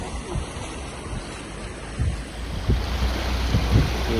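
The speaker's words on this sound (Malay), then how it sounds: "Angin kuat tu." Strong wind gusts across floodwater at a raft house on a flooded rice paddy, a steady rushing roar with water lapping and louder buffets toward the end, no voices.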